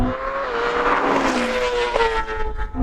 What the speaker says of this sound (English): both machines launch forward